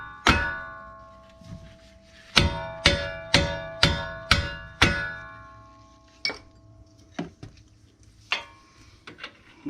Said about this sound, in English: so let's take the hammer